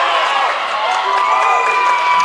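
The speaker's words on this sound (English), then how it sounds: "This Frontier crowd surrounding this area that we're in is making some noise" Wrestling finals crowd in a Frontier arena making steady, sustained cheering and shouting, a dense continuous roar from many voices at moderate distance throughout.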